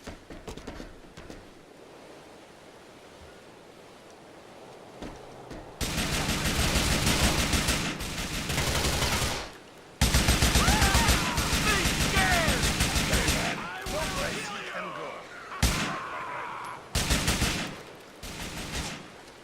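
Gunfire in GTA IV, dense rapid bursts of shots alternating with short pauses, loud and continuous through much of the stretch, with game sounds mixed in.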